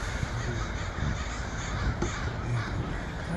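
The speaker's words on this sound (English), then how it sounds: "What kind of bird is it? Crow?" Several crows caw repeatedly outdoors on a cold day, harsh calls overlapping against steady background noise, moderately near and fairly faint.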